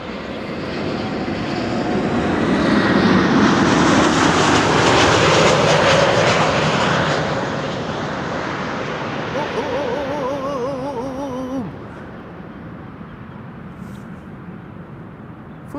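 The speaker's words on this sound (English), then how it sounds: "It's an A321neo at least." An Airbus A321neo airliner arriving at Amsterdam Schiphol swells into a loud, broad jet roar that peaks mid-pass and then fades, with birdsong chirping over the tail end.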